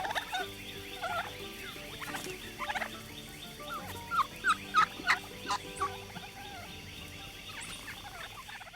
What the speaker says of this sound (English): I love to hear a turkey gobble